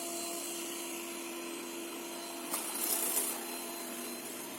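A yeedi Vac Max robot vacuum cleaner runs a suction test with a steady, fairly quiet motor whir and a steady hum. A brief louder rush comes midway.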